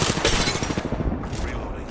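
Rapid explosions and gunfire from an airstrike in the video game Apex Legends, loud and dense throughout, with bursts of blasts overlapping and a voice talking over the chaos.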